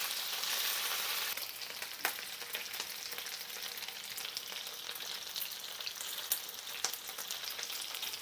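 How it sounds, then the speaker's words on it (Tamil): Butter garlic chicken pieces fry in a little oil in a pan, giving a steady, soft hiss of sizzling with occasional small pops and crackles, close by and without talk. "இப்போ நம்ம லேசாக ஆயில் போட்டுக்கலாம். எல்லாத்தையும் பொரித்து எடுத்துக்கலாம் நம்ம."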